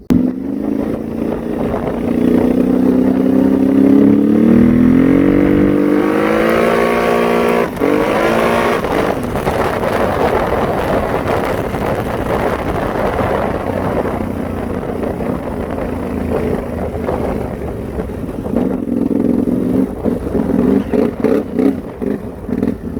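A pit bike motorcycle engine revs hard and loud up close, pitch climbing and falling as it rides, then settling into a steady rough drone with further throttle blips near the end.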